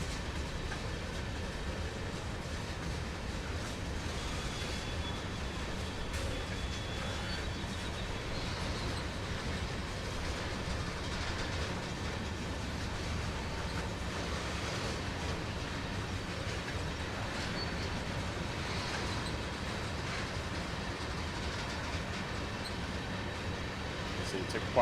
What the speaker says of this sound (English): The sound effects are amazing as far as the engine, the squealing on the tracks